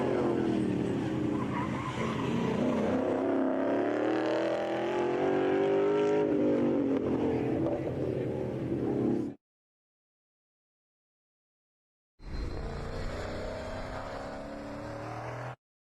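Mikey Albacetti's race car roars loudly down a drag strip, engine note climbing steadily for several seconds before cutting off, then returning briefly at full volume.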